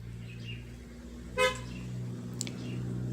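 A single short car horn toot sounds from outside, distant and brief, over a steady low indoor hum.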